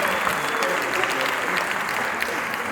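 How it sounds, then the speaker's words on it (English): An audience applauds a panel after a talk: dense, continuous clapping from a sizable crowd, steady and moderately loud with a few sharper individual claps standing out, and no speech on top. "How about a big round of applause for our panel guys?"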